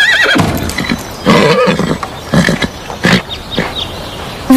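A horse whinnies loudly and close several times in short, shrill bursts, with no voices over it.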